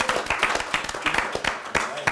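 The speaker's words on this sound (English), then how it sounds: "Big round of applause to our audience." Scattered audience clapping at the close of a live show, a sparse group of hands producing distinct, uneven claps near and fairly loud, with voices mixed in.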